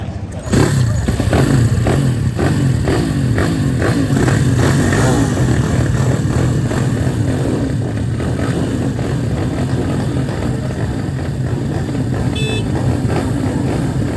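Ohvale junior minibikes racing at Tangkak circuit in Malaysia, a loud, steady drone of small engines revving together with rhythmic gear-change pulses, close and continuous throughout.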